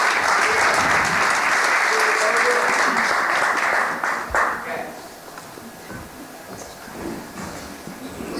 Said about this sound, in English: Can we get a round of applause for the current mayor of Houston, Mr. Sylvester Turner?